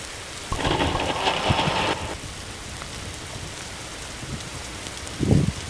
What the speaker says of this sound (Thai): แล้วฝนก็ตกด้วยนะครับ